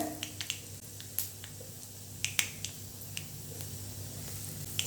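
Cumin seeds tossed into hot oil already popping with mustard seeds give off a soft, steady sizzle scattered with sharp crackles and pops, close and moderately loud, with no talking.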